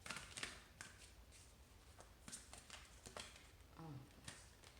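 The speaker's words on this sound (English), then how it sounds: "these cards are really difficult to shuffle." Tarot cards being shuffled by hand, a quiet run of soft riffling taps and flicks that recur unevenly for several seconds.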